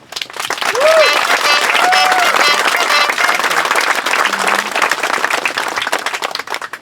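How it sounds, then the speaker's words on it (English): Sustained applause from an audience at an outdoor dedication of a handicap-accessible playground at a camp, steady clapping filling the whole stretch with a brief tone and faint murmur mixed in. "And I just like to applaud him for his efforts"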